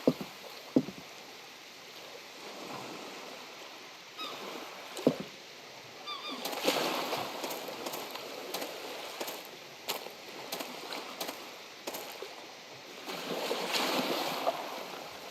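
Swimming in water at night in the video game Sunkenland: soft splashing and sloshing strokes that grow busier and louder midway, over a constant watery wash and wind-like noise, with no talk.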